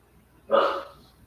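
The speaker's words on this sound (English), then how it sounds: "My dog actually barks for once." A single short dog bark indoors, moderately close and clear, with near silence before and after it.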